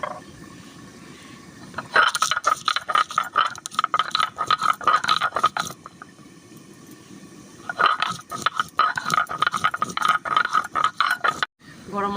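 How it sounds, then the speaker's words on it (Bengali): Whole garam masala spices ground by hand on a grinding stone, a rhythmic rattling scrape in two long bursts, close and moderately loud, with a quieter pause between them. "আমি গরম মশলাটা এদিকে বেটে নিই"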